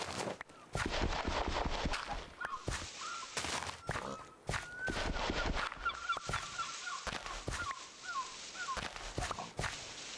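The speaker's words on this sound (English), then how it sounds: "I just heard that chicken lay an egg." Honking, goose-like fowl calls from a chicken laying an egg in modded Minecraft, sounding as a run of repeated clucks over game noise and footsteps, moderately close.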